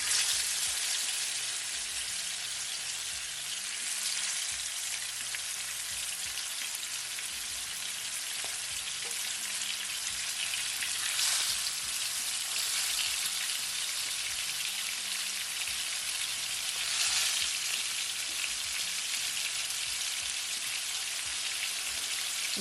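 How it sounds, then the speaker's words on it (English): Turkey neck browning in a pot for Jamaican brown stew, giving a steady, dense frying sizzle with crackling pops throughout, close and continuous with no talk. "So I'm just gonna fry it instead of just add the whole thing to the pot"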